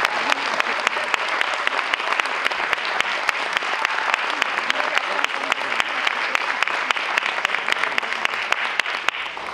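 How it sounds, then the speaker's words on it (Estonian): Sustained, dense audience applause at an Estonian awards and thank-you ceremony, a steady crowd of hands clapping loudly and evenly for nearly ten seconds without pause. "Suur aplaus!"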